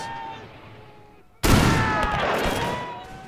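Musket volleys from Highlanders skirmishing in a Mahdist Rebellion battle at Gaza in a strategy video game, a sudden loud crash of massed gunfire after a quiet start, then a sustained rattling roar of shots.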